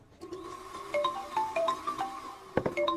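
A mobile phone rings with an incoming call, a melodic ringtone of bright repeated tones that plays clearly and alone, with a short knock near the end.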